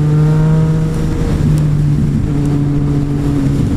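A Yamaha FZ-09 motorcycle with a Black Widow full exhaust drones steadily with a deep, throaty exhaust tone, holding a low rumble throughout with slight shifts in pitch, loud and close.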